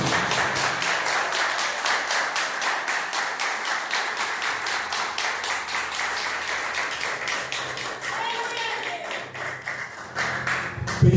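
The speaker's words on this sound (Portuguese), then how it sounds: "dá uma salva de palmas para Jesus." A church congregation claps together in a steady, rhythmic unison beat, loud and regular throughout, with a brief voice rising near the end.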